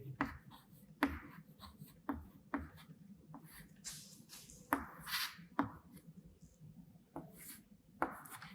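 A pen scratches dimension figures onto paper for a scale drawing, close and faint, with short strokes and a few sharp taps at an uneven pace.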